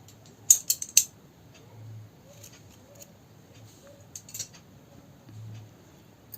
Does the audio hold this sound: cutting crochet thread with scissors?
yes